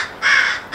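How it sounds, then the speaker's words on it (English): A single crow gives one loud, harsh caw close by, followed by the start of another call. "The crows are disagreeing with me."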